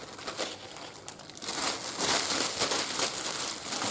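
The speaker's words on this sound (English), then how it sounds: "Get a plastic bag on there, wrap it in tight, all the way around." A plastic bag crinkles and rustles continuously, growing louder and denser halfway through as it is wrapped tightly around an object close by to make a leatherwork pattern.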